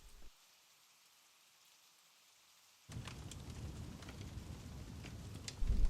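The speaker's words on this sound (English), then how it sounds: "The rain won't let up anytime soon." Steady rain falls in a forest, a dense hiss starting abruptly after a near-silent stretch and continuing loud and even, with a few sharper drops and a brief louder burst at the end.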